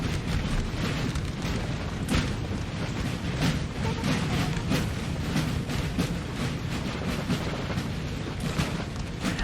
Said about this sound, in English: Howitzers already shooting them to pieces here as the Russians advance in mass here.